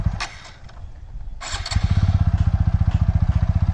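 A motorcycle starts and moves off as its clutch is released, a few faint clicks and rustles giving way to a loud, rapid, steady engine thump close by.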